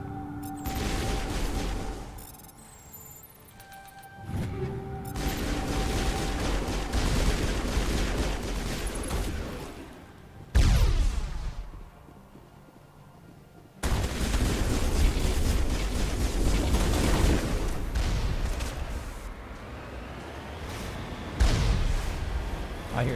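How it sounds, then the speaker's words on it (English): Mass Effect combat with bursts of gunfire and explosions, loud volleys broken by brief lulls and a sharp booming blast partway through, with some faint voices in the mix. "I hear explosions, but I don't really know what's shooting at us from this distance"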